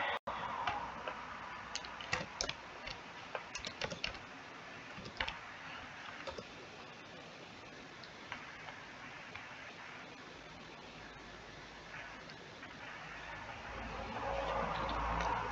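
Soft, irregular key clicks from typing on a keyboard, close and quiet, with scattered taps over a faint steady hiss.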